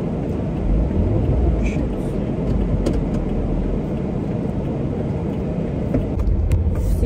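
Car being driven through Lagos traffic, a steady low engine and road rumble heard from inside the cabin, with a person talking over it throughout.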